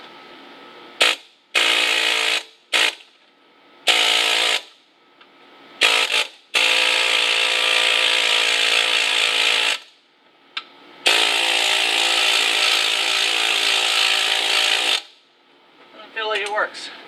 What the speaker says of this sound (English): So I'm going to try this tip on the air hammer.